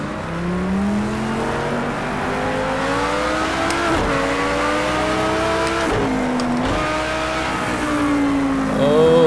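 Lamborghini Huracan GT3 race car in Project CARS 2 with a loud, high-pitched screaming engine, revs climbing and dropping through gear shifts with brief tire noise, continuous and close throughout.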